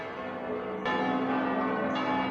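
A church bell rings out at a cathedral during a dramatic reunion scene in a Japanese film, its sustained tone layered over a steady wash of music or ambience, with a brighter second strike near the middle and another toward the end.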